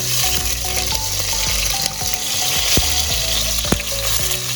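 Chopped onion hits hot oil for pork pochero and sizzles loudly and continuously at close range, with occasional clicks of a utensil against the pan.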